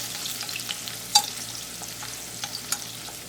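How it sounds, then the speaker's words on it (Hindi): Chopped garlic, chopped ginger and dried chilies sauté in hot oil in a pan with a steady sizzle and occasional clinks of stirring, close and moderately loud, without talk. "साथ ही गार्लिक डालेंगे इसके अंदर, चॉप्ड गार्लिक, चॉप्ड जिंजर।"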